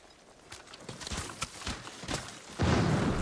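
Horse hooves in the video game Ghost of Tsushima, a run of irregular thudding clip-clops over background ambience, ending in a louder rushing swell.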